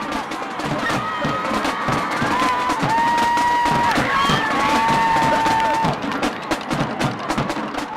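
Crowd cheering and shouting at a youth football halftime show, a steady roar of many voices with children's shouts and whistle-like tones rising over it, loud and continuous throughout.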